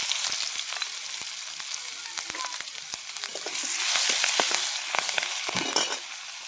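Onion drops into hot oil with a bay leaf broken in two, popping and spitting in a dense crackle that swells into a louder, fuller sizzle midway, close to the pan.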